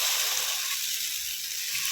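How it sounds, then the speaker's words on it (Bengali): Lentil batter sizzles in a wok thinly greased with oil on a stove. The hiss is bright and steady and fairly close, with no voices. "দিয়ে অল্প অল্প বেটারটা দিয়ে কড়াটা ঘুরিয়ে নেব।"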